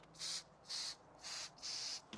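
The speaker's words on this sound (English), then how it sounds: "we're just going to spray a little bit in here" Four short hissing bursts of spray applied to the fabric of a long 490 awning, evenly spaced with brief pauses between them, close and fairly quiet, with no talking.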